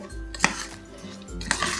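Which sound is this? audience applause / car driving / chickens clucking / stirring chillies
stirring chillies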